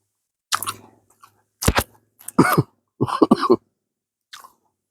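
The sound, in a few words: cough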